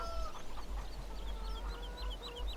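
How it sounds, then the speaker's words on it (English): Free-roaming chickens clucking on a farm in Farming Simulator 2017, a steady run of nearby clucks and short calls from several birds over a constant low background hum. "You got free roaming chickens, which I don't really care for."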